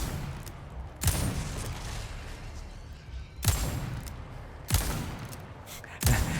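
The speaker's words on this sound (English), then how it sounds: "just use a hand cannon, take down these guys." Hand cannon blasts ring out in Resident Evil 4, four heavy booming shots spaced about a second or two apart, each with a long decaying echo, loud and close.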